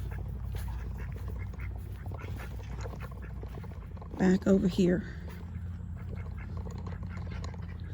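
Ducks near a farm building let out a short burst of several loud quacks in quick succession, close by, amid a low outdoor rumble and a man's brief speech.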